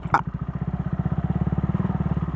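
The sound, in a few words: motorcycle riding on a trail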